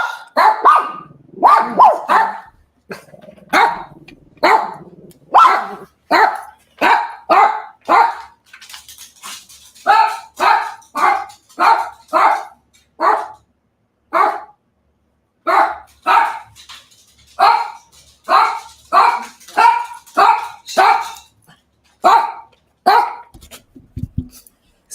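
Several excited dogs barking in repeated, loud bursts, close by, sometimes in quick runs and sometimes in short pauses, over roughly twenty-five seconds with no talking.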